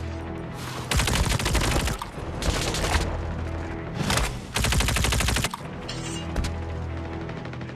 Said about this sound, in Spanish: desde el otro lado me están disparando